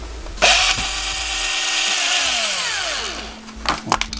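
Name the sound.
power drill drilling through plastic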